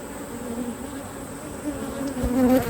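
Honey bees buzz steadily around beehive boxes during a hive split, a dense continuous insect drone at close range that swells louder toward the end, with no talking.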